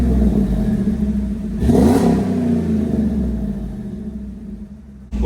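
A Buick Electra with a side exit exhaust and a broken exhaust manifold bolt revs hard, a deep loud rumble swelling then settling into a steady idle, with no talking.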